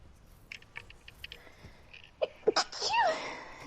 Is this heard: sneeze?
yes